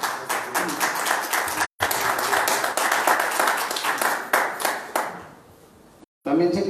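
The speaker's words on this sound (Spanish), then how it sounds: "para que pida un fuerte aplauso" A crowd claps in welcome for an archaeologist and municipal chronicler, dense and loud with sharp individual hand claps, thinning toward the end and cut by two brief dropouts.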